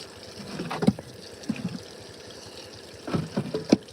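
Water pours through a mining sluice grate at an Alaskan dig site, a steady low rush broken by splashing, gurgling surges early on and again toward the end, close to the microphone.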